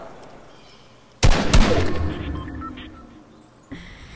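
Gunfire bursts in the battle royale game Fortnite, a sudden loud shot volley that decays into rattling, echoing noise, followed by a short sharp report near the end.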